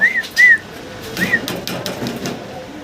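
Pigeons held by a dealer give a few short, high whistle-like calls close by at the start, followed by softer rustling and faint chirps.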